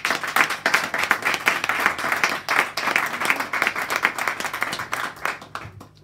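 A church congregation claps and applauds steadily throughout, a dense close crowd of many hands with some voices mixed in, fading toward the end.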